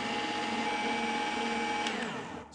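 A Fellow Opus espresso grinder runs empty with no beans, a steady motor whir and whine held for about two seconds before winding down, close and fairly loud, no talking.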